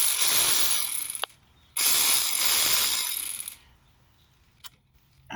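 A ratchet wrench loosens a 10 millimeter bolt on a Datsun dipstick, giving two long bursts of rapid, close clicking separated by a short pause, then near quiet with a faint knock.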